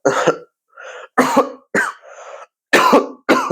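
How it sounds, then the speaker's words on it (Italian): A run of harsh, close coughs in quick bursts, several in a row with short pauses between them and no talking. "scusate se ho tossito"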